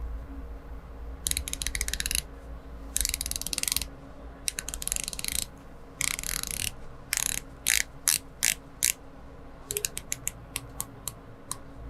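Rotating ceramic dive bezel on an Omega Seamaster Planet Ocean Titanium Ultra Deep watch, turned in bursts of rapid crisp ratcheting clicks with short pauses, then single spaced clicks, close up and alone.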